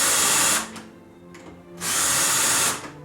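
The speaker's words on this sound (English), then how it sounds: "I have a VIX bit here, which is a self-centering bit, which is easy to drill" A power drill with a self-centering VIX bit bores hinge holes in cherry wood, two close, loud bursts of whirring separated by a quieter pause.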